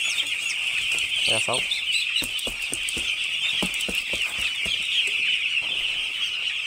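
Six-day-old broiler chicks on a poultry farm keep up a dense, continuous chorus of high peeping and clucking, with someone speaking briefly over the flock.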